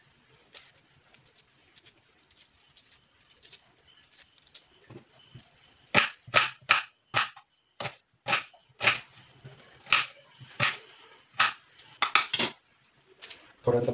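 Onions are chopped with a blunt knife on a board, sharp chopping knocks starting softly and then coming loud and regular, about two per second, alone and close.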